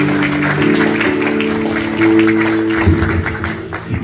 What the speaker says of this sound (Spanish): Un aplauso para la quinceañera.